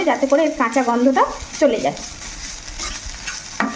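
Ginger is stir-fried in a pan with a constant soft sizzle and scraping, while someone talks over it for much of the time.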